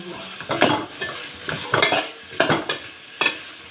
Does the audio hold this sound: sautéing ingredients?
yes